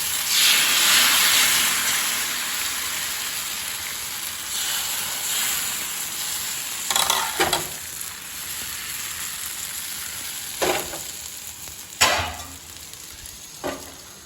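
Dosa batter sizzles steadily on a hot pan, a continuous frying hiss with a few sharper crackles and scrapes now and then, close and fairly loud with no talking.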